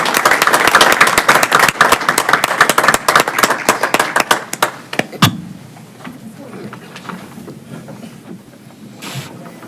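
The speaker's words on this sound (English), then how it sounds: "give them another round of applause because they are truly exceptional in their field" Dense clapping from a crowd at a school board of education meeting, loud and sustained for about five seconds, then cutting off abruptly to quieter room noise with scattered voices.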